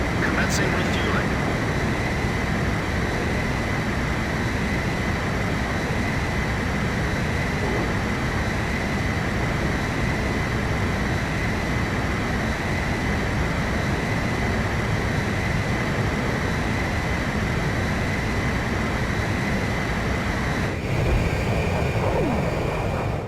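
Steady, loud jet aircraft engine roar during mid-air refueling in the video game Ace Combat 5, a continuous broadband drone holding evenly throughout with a slight shift near the end.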